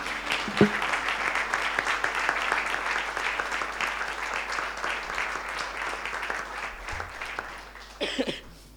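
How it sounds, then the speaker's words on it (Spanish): A church congregation claps in steady, fairly loud applause that fades toward the end, with a cough partway through and a brief burst of voices as it dies down. "Le damos un fuerte aplauso al Señor"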